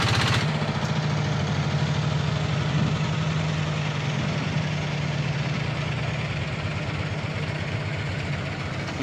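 A rice-carrying boat chugs along the Hậu River, its engine droning steadily and close with a low, even throb that barely changes throughout.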